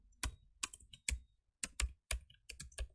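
Keystrokes on a computer keyboard as a Django project command is entered in a terminal: about eight quick, close taps in short irregular bursts with pauses, alone and without talk.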